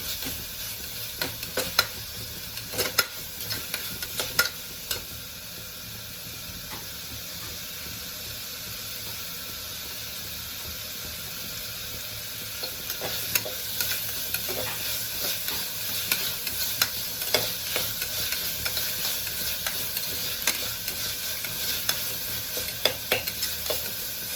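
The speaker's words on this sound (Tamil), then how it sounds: "பச்சை பருப்பு போக வதக்கிக்கலாம். அதையும் நல்லா வதங்கட்டும்." Ginger-garlic paste and green lentils sauté in a frying pan, a steady soft sizzle with scraping stirs throughout, growing a little busier midway, no talking.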